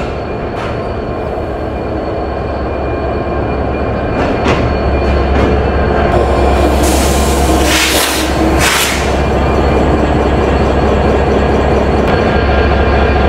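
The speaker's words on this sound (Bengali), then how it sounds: "প্রবেশ করছে আমাদের আজকের লোকোমোটিভ 6310" An EMD BP32 broad-gauge diesel-electric locomotive, number 6310, pulls into a Khulna station with a loud, steady engine drone and rolling rail rumble, punctuated by sharp hissing bursts and clanks as it arrives.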